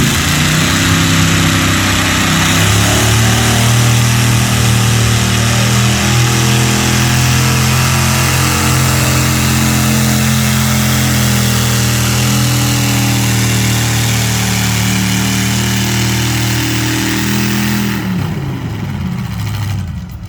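Mini-mod pulling tractor Predator, driven by Ed Weary, roars loud and close through a full tractor-pull run, its engine holding a steady, droning pitch before cutting off near the end.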